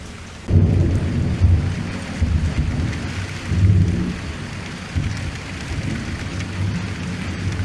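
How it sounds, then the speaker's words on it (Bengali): Heavy rain pours through a night thunderstorm, with deep rolling thunder rumbling repeatedly over a constant hiss of rainfall. "বৃষ্টির শব্দটার মধ্যে একটা অদ্ভুত ছন্দ আছে, শুনুন"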